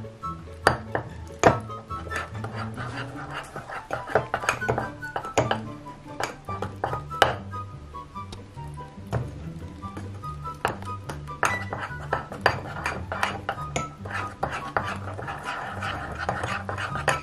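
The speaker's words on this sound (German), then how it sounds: "Ja, jetzt umrühren, Leute. Das könnte ein bisschen dauern." Nutella mug cake batter stirred with a spoon in a mug: continuous rapid clinking and scraping of metal on ceramic, close and busy, with low background hum.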